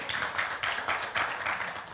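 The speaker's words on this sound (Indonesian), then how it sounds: "Tepuk tangan bagi Tuhan" Soft, rhythmic clapping from a church congregation during a sermon, steady beats repeating at a moderate pace, heard from some distance.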